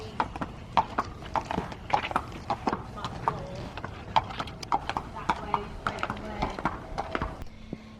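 Horse hooves clip-clop in a steady, fairly close rhythm of sharp knocks, continuing for several seconds before easing off near the end.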